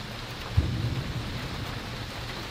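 Rain falls steadily through a severe thunderstorm, with a brief low thud of thunder rumbling early on under the constant wash of rainfall.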